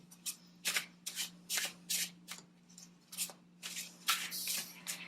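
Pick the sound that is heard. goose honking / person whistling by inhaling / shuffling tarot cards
shuffling tarot cards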